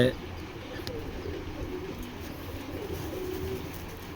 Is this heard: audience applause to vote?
no